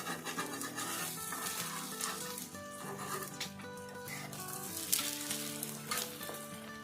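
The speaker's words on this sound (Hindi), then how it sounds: "तो यहाँ पे ये देखिए अंडे को दोनों तरफ से मैंने फ्राई कर लिया है" An egg fries on a griddle for a street-style Sargodha shami anda burger, giving a soft, continuous sizzle with light scraping, partly buried under steady background music.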